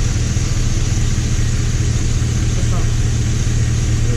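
A Camaro SS fitted with a K&N cold air intake from a 5.0 Mustang runs with a loud, close, steady low engine rumble throughout, without a clear rev.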